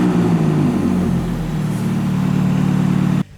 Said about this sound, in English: And it's actually manufactured by Akrapovic, which is why it sounds so good